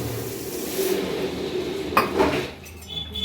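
A spoon scraping and clinking against a metal pot as sugar and water are stirred into syrup, with a few sharper knocks midway and a faint sizzle underneath.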